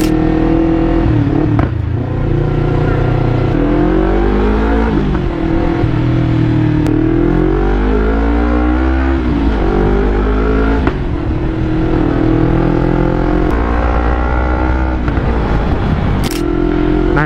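A Yamaha YZF-R25 V2 fitted with a WRX GP3 SS K250 exhaust revs up and down close by, its loud engine note rising and falling, with crackling pops and sharp bangs when the throttle is released.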